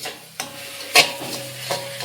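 Mushrooms frying in a pan give a soft, steady sizzle, broken by a few sharp scraping clicks of a utensil stirring against the pan.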